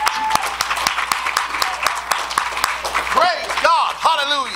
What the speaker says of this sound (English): Clap if you love the Lord. Just clap.